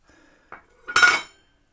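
Stainless steel cover of a rock tumbler barrel being detached: a faint scrape, a short metallic click, then a louder clattering clink of metal, all close and with no talking.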